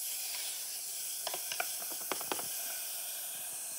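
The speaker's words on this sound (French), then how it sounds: "on va colorer un petit peu la poitrine, on va colorer un petit peu les oignons et les carottes en dernier" Pork belly, onions and carrots browning in a pan, giving a faint steady hiss with a few brief clicks and crackles in the middle, close and quiet with no talking.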